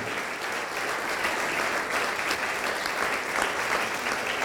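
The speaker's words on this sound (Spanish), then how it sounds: "Dale ese aplauso al Señor esta noche." Church congregation applauding at a Spanish-language evening service, a steady, dense wash of many hands clapping throughout, fairly loud and sustained with no break.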